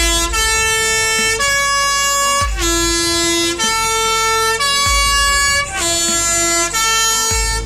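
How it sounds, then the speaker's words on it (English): A Swiss post bus's famous three-tone horn plays the opening notes of Rossini's William Tell overture, loud and close, the sustained chords changing in a steady repeating sequence with no talk. "their famous three-tone horn, picking up the opening notes of the opera William Tell by Rossini"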